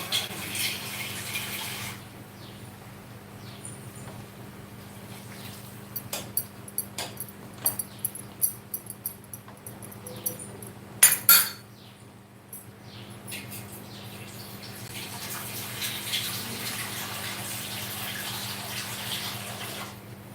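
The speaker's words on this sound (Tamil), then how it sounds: "ரெண்டு டம்ளர் அளவுக்கு தண்ணி விட்டாச்சு" Water is poured into a cooking pot in a home kitchen, about two tumblers' worth, heard as a running liquid flow at the start and end with clattering knocks and clicks in between.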